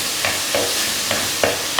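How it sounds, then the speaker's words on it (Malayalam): Curry lemon (wild lemon) frying with turmeric in a pan gives a steady close sizzle, while a spoon scrapes and stirs through it in several short strokes at an uneven rhythm. "നന്നായിട്ടൊന്ന് ഇളക്കി കൊടുക്കുക."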